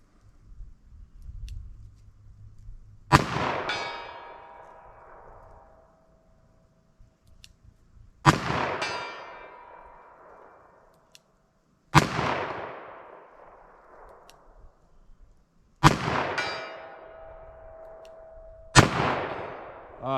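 A .44 Special revolver fires at a steel target 75 yards away, five loud sharp shots spaced several seconds apart, each with a ringing decay and no voices between them.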